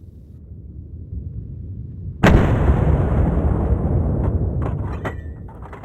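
A Sauer hunting rifle fires a single loud, sharp shot at wild boar, the report cutting through a low outdoor rumble and trailing off in a long fading echo with a few small clicks afterward.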